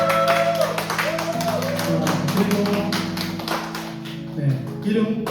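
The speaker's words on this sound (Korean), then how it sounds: "박수로 축하드립니다." A church congregation claps steadily while sustained keyboard or organ tones play underneath, the applause moderately loud and continuous.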